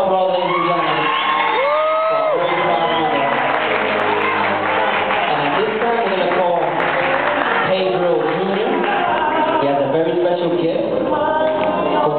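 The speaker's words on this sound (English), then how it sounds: "How about a big round of applause, ladies and gentlemen?" A large audience roars with sustained cheering, whoops and shouts, loud and continuous for several seconds, with excited voices calling out over the crowd noise.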